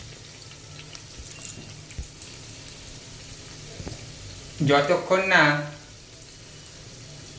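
Malpua batter frying in a pan of hot oil gives a soft, steady sizzle, with a louder bubbling burst for a second or two midway, while a voice talks quietly over it.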